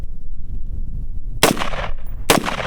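Two sharp rifle shots from a KS-47, an AR-15 and AK-47 hybrid, crack about a second apart at close range, each with a short ringing tail over a low outdoor background.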